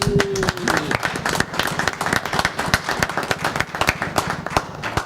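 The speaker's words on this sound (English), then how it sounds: "So if we can have a round of applause" Audience clapping at a water district board of directors meeting, a loud burst of many individual claps in quick irregular succession lasting several seconds, close and mostly alone.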